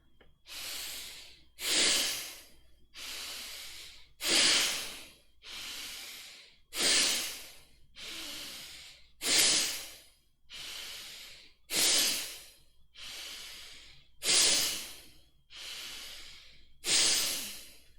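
Bhastrika bellows breathing exercise: about a dozen forceful, hissing breaths through the nose in a steady rhythm, each a strong rush of air with a brief pause between, close and alone.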